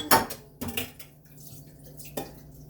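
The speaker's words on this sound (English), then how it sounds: "just put water in that pan" Water splashes into a hot pan right after meat has been cooked in it, with a sharp initial pour, a few clanks and a brief hiss later, in a quiet kitchen.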